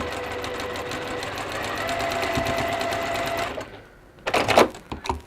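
A sewing machine stitches a quarter-inch seam in a rapid, even mechanical patter for about three and a half seconds, then stops before a brief burst of handling clatter.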